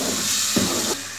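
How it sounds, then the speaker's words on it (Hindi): Tomato puree added to frying masala for aloo methi sabzi hisses in a loud steady sizzle close by. A brief splutter surges midway, and the sizzle drops slightly softer near the end. "अब ये हम टमाटर प्यूरी मिलाएंगे और इस मसाले को अच्छी तरह भून लेंगे।"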